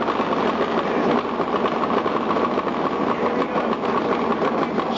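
Top Fuel Harley drag motorcycles running on nitromethane roar at a 1995 drag race at Kil Kare Dragway, a steady, distant, dense engine drone with a fluttering rasp and no pauses.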